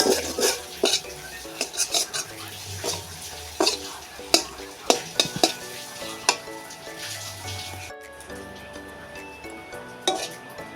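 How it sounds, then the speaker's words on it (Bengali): Fried taro (mankochu) seasoned with black salt is stirred in a pan, with repeated close metal scrapes and clinks of a spoon over a continuous sizzle that quietens near the end. "দিয়ে আমি এবার নেড়ে নিয়ে নামিয়ে নেব"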